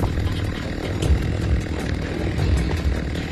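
A chainsaw from the VR game Saints and Sinners 2 runs continuously, a dense rough engine drone with slight pulsing, loud and close throughout.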